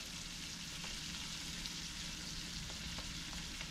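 A pan of flour being stirred into hot fat for a South Florida–style gravy roux, giving a steady, even frying hiss with faint scraping stirs throughout, close and continuous with no voices.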